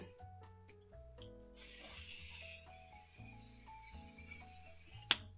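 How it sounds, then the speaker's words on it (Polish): A cosmetic spray hisses during a makeup routine, a soft airy burst lasting about a second, then faint rubbing and small clinks with a quiet musical bed underneath. "to wezmę taki w sprayu."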